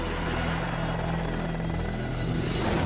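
A helicopter close by, its rotor thumping in a fast, steady rhythm over a constant engine drone, loud and unbroken.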